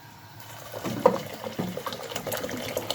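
Water poured over lentils cooking in a pot, a gurgling liquid splash that rises after a quiet start and continues as a bubbling, sloshing sound close by, with no voices.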